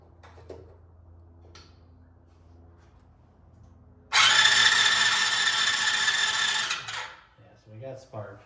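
Starter on a Chinese ATV engine cranks in a loud, steady whirring burst lasting about three seconds after a quiet hum, then cuts off abruptly.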